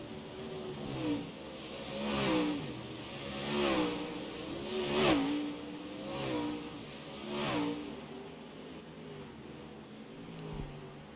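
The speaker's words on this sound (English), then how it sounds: "Sometimes I forget how loud these car engines can be when we get close up." Loud UMP dirt-track race car engines rev and whine close by, several cars passing in repeated surges with pitch rising and falling, no talking.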